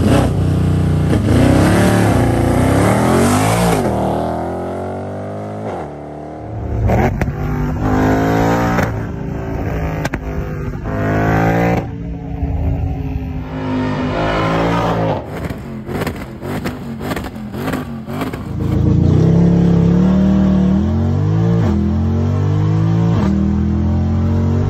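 Mercedes W204 C63 AMG V8 with an aftermarket exhaust, revved hard several times up close, loud climbing and falling blips with crackles between, no voices.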